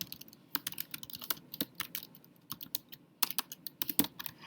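Typing notes on a computer keyboard: quick, irregular, close-up key clicks and taps in a steady stream, fairly quiet, no voices.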